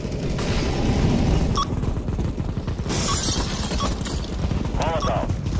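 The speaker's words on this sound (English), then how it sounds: "flashbang." A flashbang grenade goes off in Counter-Strike: Global Offensive, a sharp shattering burst inside a dense, continuous mix of loud gunfire and game effects.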